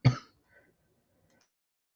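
A single sharp throat clear or cough right at the start, close and fairly loud, then a faint trailing breath and near silence.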